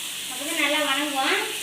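Tomatoes frying in a little oil give off a steady, close hiss with sizzling, and a brief faint voice may come through underneath.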